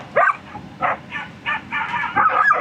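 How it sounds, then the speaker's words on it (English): Several farm dogs bark in quick, overlapping bursts nearby around a motorhome at a campsite, a busy irregular volley of yaps and woofs. "Obviously the farmer's dogs."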